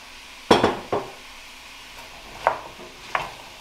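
Squash pieces tipped into a pan of cooking onion, a sharp clatter and sizzle at first followed by a few softer scrapes and knocks of a utensil against the pan.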